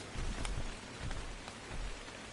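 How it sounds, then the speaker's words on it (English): Rainfall in the video game Ark: Survival Evolved on The Island map, a dense hiss of drops with soft low rumbles, steady and close, with no voices. "This is actually really nice having rain."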